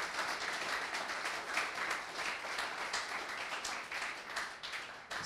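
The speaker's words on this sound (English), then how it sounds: "Round of applause for Kate." Audience applause closing an ecommerce business talk, a steady dense wash of many hands clapping at moderate volume for about five seconds, with no voices over it.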